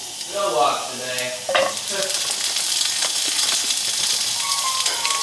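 Sausage fries in ghee in a pan, giving a steady bright sizzle throughout, close by, with a few brief voice-like sounds near the start.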